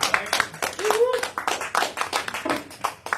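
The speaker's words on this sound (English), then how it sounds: "Give him a clap." Congregation gives a brief, uneven burst of clapping, separate hand claps audible up close while voices talk and call out over them.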